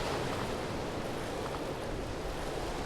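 Water waves surge in a wave pool in the LIMSCAPE horror game, a steady washing, surf-like rush with no voices.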